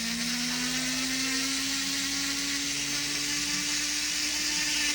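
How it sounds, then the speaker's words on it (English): A rotary tool with a sanding barrel grinding a platinum casting, a steady high whine that rises slightly in pitch, with a bright abrasive hiss, close and constant throughout. "So first I hit it with this barrel, okay? Just sand it"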